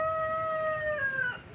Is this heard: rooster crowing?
yes